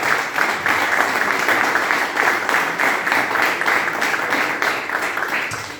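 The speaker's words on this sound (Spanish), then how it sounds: "Dele fuerte el aplauso a Dios esta mañana" A church congregation applauds during a Spanish-language sermon on repentance, producing steady, dense clapping from many hands that fills the room evenly and loudly throughout, with no talk over it.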